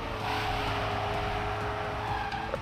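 Car racing in TrackMania 2 Stadium, a loud steady engine drone with tire screech and skidding noise running continuously for a few seconds.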